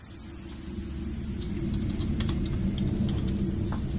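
Someone types on a computer keyboard in a quick patter of light key clicks over a low rumbling background hum. The clicking grows a little louder and is heard with no voices.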